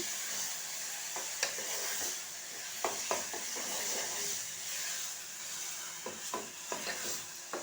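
Chopped tomatoes frying in hot oil in a pan for aloo tomato curry, a continuous close sizzle and hiss broken by occasional clinks and scrapes of a spoon stirring, with no speech.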